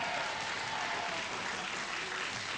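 A TV game show studio audience applauding, with dense, steady clapping sustained throughout at a moderate level.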